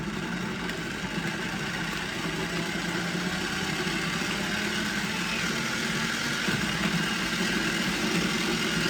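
A Pampered Chef Flex+ food processor chops onions with a continuous motorized whir at close range, running steadily without pause and with no talking.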